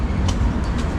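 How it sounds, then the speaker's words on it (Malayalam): A train at an Indian Railway station produces a loud, close, continuous low rumble that lasts the whole short moment, with no talk. "വേറെ ട്രെയിൻ വന്നപ്പോൾ അടുത്ത് മറ്റേ ട്രെയിനിൽ പോയി"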